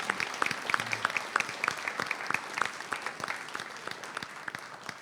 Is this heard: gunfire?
no